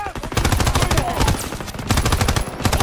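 Rapid automatic gunfire from a Call of Duty WWII battle, dense bursts of machine-gun shots rattling continuously and loudly up close across the whole moment, with faint voices mixed underneath.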